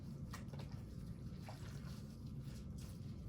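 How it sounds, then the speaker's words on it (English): Water runs softly from a tap as a washcloth is wetted, a faint, steady splashing trickle with no voices. "I'm gonna wet my washcloth."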